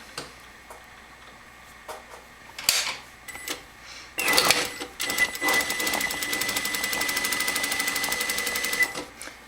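A sewing machine stitching a French seam on a skirt side pocket: a few scattered clicks and handling knocks, then a burst of fabric rustle, followed by a steady rapid mechanical stitching rhythm running for several seconds before stopping.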